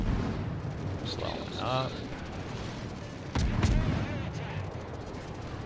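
Naval guns firing at the battleship Monarch in a naval combat video game, armor-piercing shells, heavy booming salvos with a loud blast near the middle, a voice talking over the gunfire.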